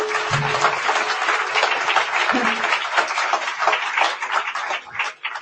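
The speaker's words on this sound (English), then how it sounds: "So let's give everybody a round of applause." A large audience at an academic annual meeting applauds steadily, dense clapping filling the room throughout, with a brief voice near the start.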